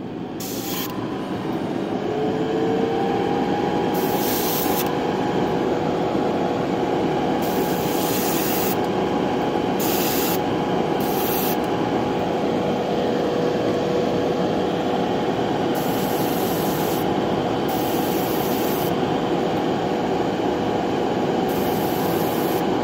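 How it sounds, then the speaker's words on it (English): An airbrush spraying paint while freehand camouflage is applied to a GI Joe action figure: a steady, continuous airy hiss with a faint underlying tone, lasting over twenty seconds without pause. "And that's the trick with holding your airbrush perpendicular to your painting surface."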